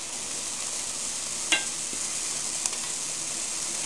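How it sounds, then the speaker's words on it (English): Diced prosciutto and frozen peas sautéing in a pan over medium-high heat, a soft, steady sizzle with a few light clinks of stirring. "we're just going to saute this over medium-high heat"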